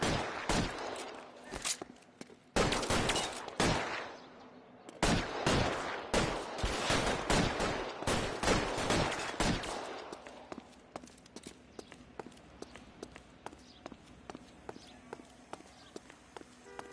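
Gunfire in the 1940s crime game L.A. Noire, a rapid burst of close, loud shots and volleys for about ten seconds, then sparser scattered pops fading lower.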